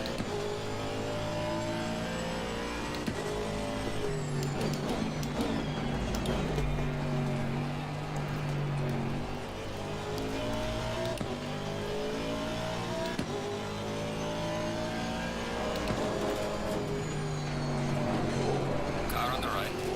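GT3 race car engine lapping the Nürburgring in a racing video game, revving and shifting through gears with rising and falling pitch, loud and continuous under a steady commentary voice.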